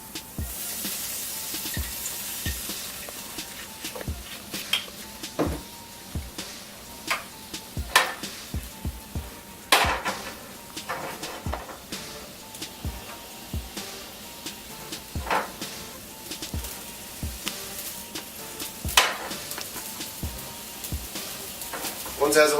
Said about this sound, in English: Now that we have our minced garlic sauteing a little bit